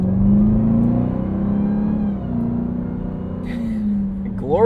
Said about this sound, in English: Glorious supercharger whine. And you can hear it quite a bit.